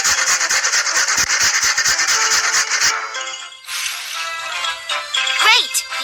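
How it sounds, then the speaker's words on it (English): Cartoon-style grating of pizza ingredients, a run of rapid rhythmic rasping strokes for about three seconds, followed by softer clinks and kitchen sounds. "We need to grate this."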